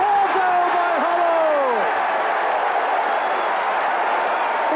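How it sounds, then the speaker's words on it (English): A stadium crowd of Tottenham fans cheers and applauds after a goal by Hoddle, a loud, steady roar filling the whole stretch, with voices in the crowd clearly audible in and over it. "he gets applause from his manager and the bench, and from the Tottenham fans as well"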